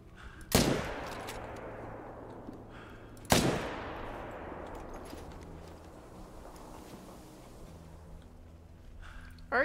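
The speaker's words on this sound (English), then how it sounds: "I'm gonna shoot from here." Two sharp rifle shots ring out a few seconds apart during a hunting video game with Labrador retrievers, each followed by a long fading echo over a quiet outdoor backdrop.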